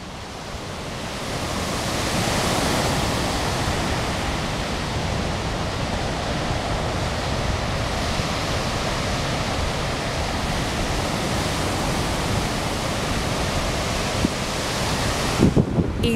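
Ocean waves breaking on the beach at Praia da Fragosa, Aver-o-Mar, Póvoa de Varzim, heard as a steady, broad wash of surf that rises after a moment and then holds constant and fairly loud, with a few brief knocks near the end.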